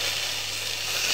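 Chopped onion, garlic and ginger fry in a hot pan with a steady, bright sizzle that stays loud and even for a brief moment, with no talking.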